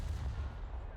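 Deep booming rumble from American 8-inch naval guns on the USS Pensacola heavy cruiser in a naval video game, a sustained low roar filling the second with no clear separate shots.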